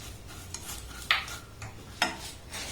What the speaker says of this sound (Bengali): এবার যে ড্রাই ফ্রুটগুলোকে ভেজে রেখে দিয়েছিলাম সেটাকে দিয়ে দেবো